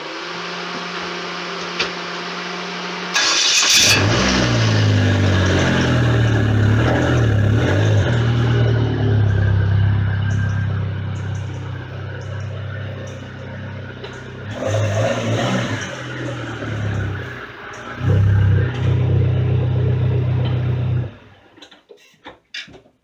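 Car with a damaged transmission backing out, a loud engine hum and mechanical drone starting after a few seconds of quiet, swelling twice more before cutting off near the end.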